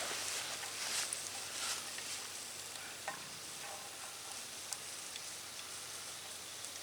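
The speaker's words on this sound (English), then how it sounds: "let it slowly come to a simmer and boil" Butter simmering in a canteen cup to make ghee gives a faint, steady crackling sizzle with soft bubbling pops, heard quietly and alone throughout.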